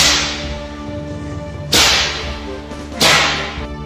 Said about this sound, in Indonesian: cambuk Gupito menyambar-nyambar seperti petir di langit, meledak-ledak memekakkan telinga